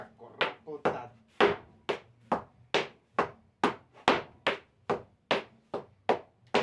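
Malambo footwork rings out as a rhythmic run of sharp boot heel strikes and scrapes, about two per second, close and percussive, with a voice counting softly beneath.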